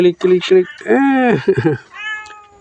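A cat waiting to be spayed at a Thai temple gives several close, clear meows, some drawn out and rising, with a voice talking alongside.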